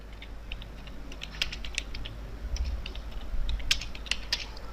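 Typing on a computer keyboard while writing PHP code: scattered, quick key clicks come in small irregular clusters over a low steady hum, close and moderately quiet, with no talk.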